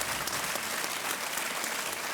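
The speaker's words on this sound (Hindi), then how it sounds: "और तालियों के साथ हम आपका अभिनंदन करते हैं।" Studio audience applause on a televised quiz show set, steady dense clapping filling the whole stretch at moderate level with no talk over it.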